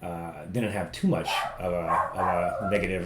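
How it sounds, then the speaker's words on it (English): A small dog barks sharply a few times in the background while someone talks steadily over it in the foreground. "So he barks at just about everything that moves."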